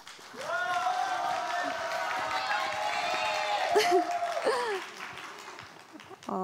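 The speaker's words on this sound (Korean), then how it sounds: "박수로 맞아주시기 바랍니다" An audience at a volunteer-story stage event in Korea applauds to welcome the final speaker, with moderately loud clapping under an announcer's voice and a brief swell of crowd noise.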